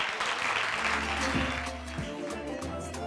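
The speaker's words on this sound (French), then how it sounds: "applaudissements pour nos danseurs" A studio audience on a Burkina Faso TV variety show claps for the dancers, a thick burst of applause in the first half thinning out beneath a voice and low tonal sound.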